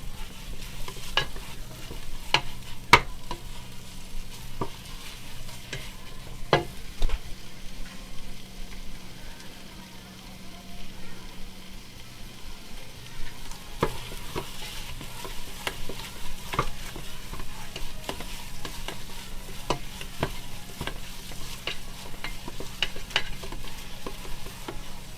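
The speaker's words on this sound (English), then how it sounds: "So they do it in a big pot like this, and they just kind of keep stirring until everything's brown." Taco meat browning in a big pot, sizzling and frying steadily while a utensil stirs and scrapes through it with irregular clacks, close and alone without any talk.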